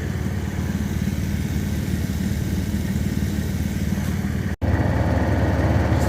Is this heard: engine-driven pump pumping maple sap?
yes